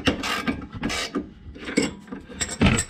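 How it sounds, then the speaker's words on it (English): A socket wrench with a 15 mm socket loosens a nut on a strut of an S197 Ford Mustang, giving close, uneven ratcheting clicks and scraping strokes in short bursts, with no talk. "I got my socket wrench with a 15 millimeter socket"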